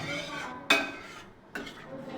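Egg masala spices stir-fried over a medium flame in a pan, heard as two sharp utensil clanks against the pan with softer scraping and a faint sizzle between them.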